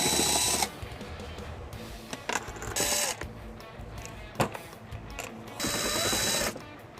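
Power driver spinning out cargo tray screws with a Phillips bit or 10mm socket in a 2024 Hyundai Santa Fe, in three loud whirring bursts separated by quieter clicks and handling noise.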